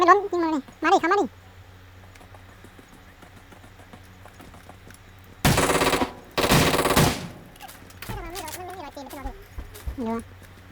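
Gunfire from the battle royale game PUBG Mobile comes in two loud dense bursts in the middle, rapid automatic shots close by, between stretches of excited talk.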